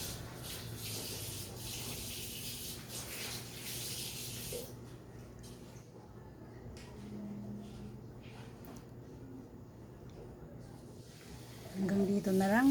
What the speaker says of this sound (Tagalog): nagugas na ako ng plato